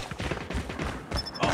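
A mobile shooter game delivers a rapid fusillade of gunfire, several quick overlapping shots in a short burst, loud and close.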